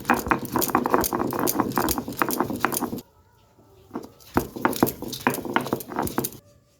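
Mustard seeds and four or five green chilies ground by hand on a flat grinding stone, a rapid scraping, knocking rattle in dense rhythmic strokes, close and loud, pausing briefly midway before resuming.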